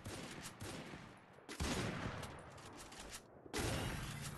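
Rapid gunfire in the video game Free Fire, dense continuous bursts of shots in three loud blocks separated by brief near-silent gaps, close and harsh.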